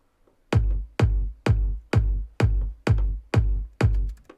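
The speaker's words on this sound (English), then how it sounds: "So if I show you the kick drum," Electronic dance-track kick drum tuned to G1, eight punchy booming hits in an even steady rhythm, each with a sharp attack and deep decaying low tail, heard alone and up close.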